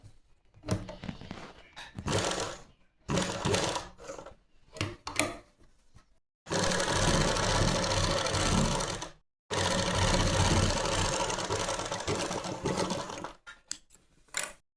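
A sewing machine stitching a folded fabric belt, starting in several short bursts of whirring needle action and then running in two long steady runs, close and fairly loud with mechanical clatter.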